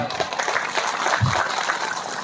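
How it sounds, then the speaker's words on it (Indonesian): Audience applause at a village anniversary gathering in Pempen, a steady dense patter of clapping filling the whole stretch, with crowd voices mixed in beneath it. "Tepuk tangan."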